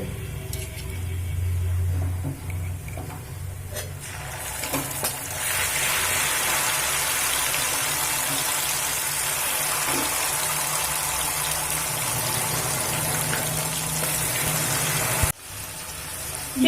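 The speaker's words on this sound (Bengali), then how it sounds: "মশলা দিয়ে দিয়েছি আর মশলার বাটি দিয়ে জল দিয়েছি" Spice paste and water tipped into onions frying in a pan, a low sizzle that swells into a loud, steady bubbling hiss and holds, then cuts off sharply near the end.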